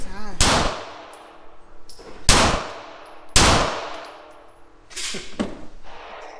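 Springfield Armory Prodigy 4.25-inch pistol firing 124-grain rounds: four loud, close gunshots spaced a second or two apart, each a sharp crack with a ringing decay.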